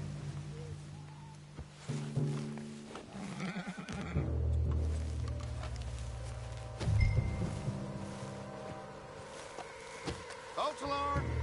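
A horse whinnies and snorts in Red Dead Redemption 2, with clip-clop hooves and game ambience; a few loud neighs stand out over background noise and brief voices.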